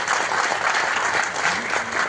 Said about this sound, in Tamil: இந்த நேரத்தில் கருணா சாருக்கு நல்ல மிகப்பெரிய கரகோஷம் கொடுங்க. இந்த அரங்கமே அதுற மாதிரி கொடுங்க.